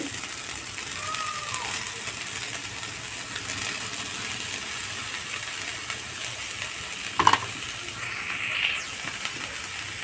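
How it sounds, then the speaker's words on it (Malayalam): Red spinach is added to a hot pan and stirred, giving a soft continuous sizzle with faint scraping and a brief clink partway through. "ഇനി ഇതിലേക്ക് ചീര ഇട്ട് കൊടുക്കാം ചീര ഇട്ട് കൊടുക്കുന്നുണ്ട്"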